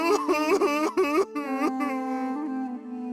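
A man cries and wails in a long, drawn-out moaning voice with rising and falling sobbing bursts, close and alone, fading into a sustained trailing moan.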